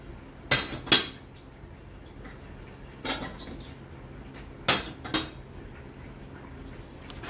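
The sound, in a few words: scraping gunk in a plasma cutter water table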